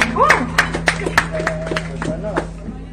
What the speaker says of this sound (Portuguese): Um salva de palmas!